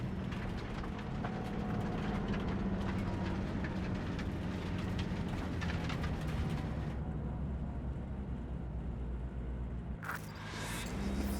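A moving train in Cyberpunk 2077 rumbles and clatters continuously with a broad, dense rolling roar, steady and loud, with a brief sharp hiss near the end.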